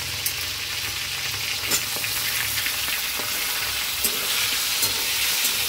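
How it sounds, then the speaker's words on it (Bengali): Potato pieces fry over lowered heat in oil tempered with bay leaf and green chilli, producing a steady, close sizzle with scattered spits and crackles and no voices. "আলুগুলো দিয়ে একটুখানি আঁচটা কমিয়ে আস্তে আস্তে আলুগুলোকে ভাজি।"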